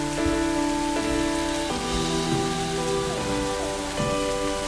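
Steady rain patters on a surface, a dense hiss that stays even throughout, mixed with faint tonal hums in the background.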